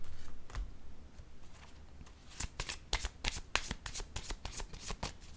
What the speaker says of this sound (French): Je pense que je vais piger une carte rose.